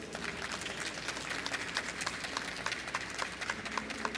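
A podcast audience greets a guest historian with applause, a steady wash of many hands clapping at moderate distance that continues throughout.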